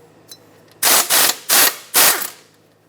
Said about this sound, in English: Use a 17mm socket and remove both of these caliper bracket bolts that hold it onto the knuckle